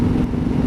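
Harley-Davidson Sport Glide engine accelerating, a loud continuous low rumbling roar close to the rider with wind noise, only a brief moment of throttle.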